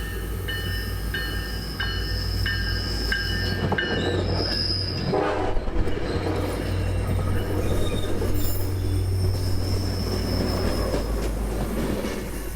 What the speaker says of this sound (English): The train would be rolling to a stop by the platform here